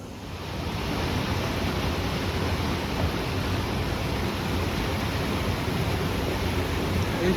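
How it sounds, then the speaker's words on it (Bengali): Steady broadband rush of water pouring through a waterfall channel into a main current at Mukutmanipur, continuous and fairly loud, with no voices. "এটা অ্যাকচুয়ালি ওয়াটারফলস, কিন্তু এখান দিয়ে জলটা আসছে"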